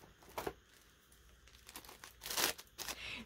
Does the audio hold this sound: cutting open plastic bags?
yes